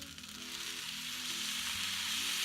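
Chinese fried rice with beef and egg sizzling in a pan, a loud, steady, close frying hiss that builds slightly and carries on without pause or talk.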